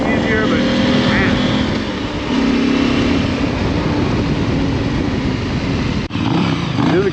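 A motorcycle engine runs close by in a loud, continuous rumble with small shifts in revving and a brief dip near the end.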